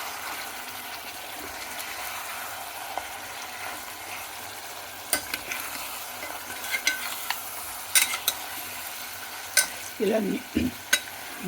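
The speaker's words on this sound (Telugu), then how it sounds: "నూనె తేలే వరకు మాంసాన్ని వేయించాలండి." Mutton with sorrel leaves fries in oil with chili powder, coriander powder and salt, giving a steady close sizzle broken by sharp scraping clicks of stirring; a voice speaks briefly.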